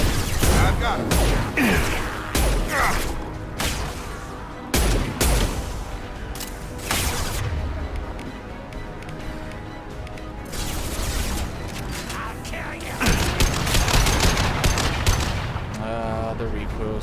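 Gunfire in the game Mass Effect 2, loud bursts of rapid shots and heavy impacts crackling one after another, with a calmer stretch in the middle before another intense volley.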